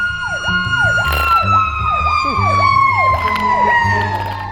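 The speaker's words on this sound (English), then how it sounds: "There's a fire truck coming." A fire truck siren wails loud and close, its sweeping rise-and-fall tones repeating steadily over a deep engine rumble as the truck passes.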